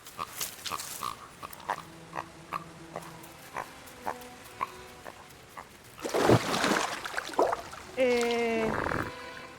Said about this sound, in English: The pig devoured the fruit with careless abandon.